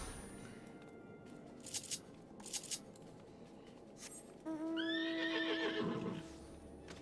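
A horse in the Final Fantasy XIV video game gives one long, loud whinny near the end, preceded by a few sharp clicks and soft hoof clops over a low game ambience.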